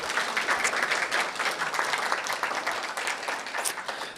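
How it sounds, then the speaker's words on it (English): An audience applauds after a conversation and Q&A event with authors, a dense sustained wash of many hands clapping at once, steady and fairly loud with no talk. "Maybe one more round of applause for Jess and Susanna."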